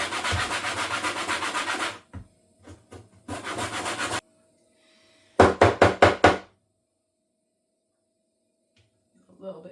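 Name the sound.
zesting lemons on small side of grater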